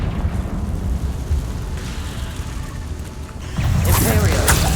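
Confringo fire spell explosion in the Hogwarts Legacy game, a loud sustained blast and rumbling burst after a churning lead-in, with a crackling, debris-like tail and combat sounds mixed in.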